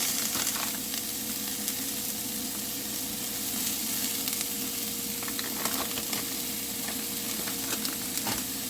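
Vegetables fry in a pan seasoned with garlic powder, a steady close sizzle with occasional crackles and pops and no talking.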